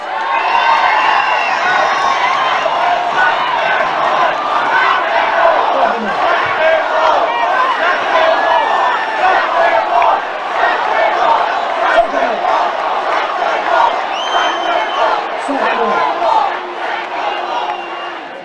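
Protest crowd gathered in Martin Place, Sydney, at a freedom rally: a large, loud mass of shouting and cheering voices, continuous and roaring, with occasional whoops rising above the din.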